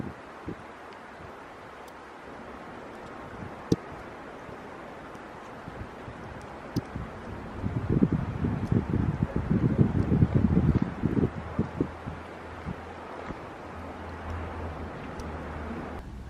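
Wind blows outdoors near a greenhouse, a steady hiss and rustle that swells into a louder gusty stretch partway through, with scattered small ticks and knocks.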